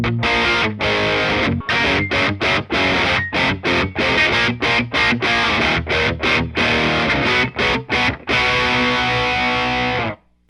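Heavy rhythm electric guitar plays through an amp with the preamp below noon and an overdrive pedal set to no drive. It sounds loud and thickly distorted, chugging in tight palm-muted bursts with brief stops before a final sustained chord.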